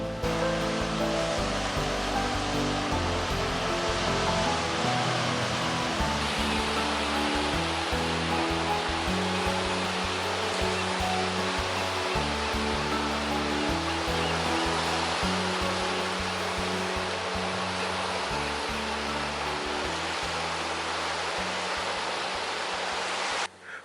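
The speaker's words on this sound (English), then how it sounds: "I can lose myself for hours watching thundering waves crash onto rocks and swells" Ocean waves crash onto rocks on the Oregon coast, a steady, dense roar of surf that stays loud and unbroken throughout, with deep rumbling beneath the hiss.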